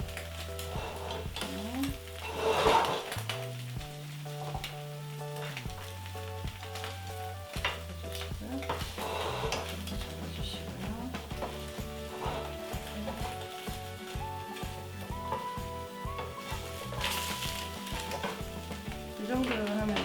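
Egg frying and sizzling in a pan on the stove for an egg toast, with steady crackle and occasional stirring and utensil clinks throughout, some harmonic music or tones running underneath.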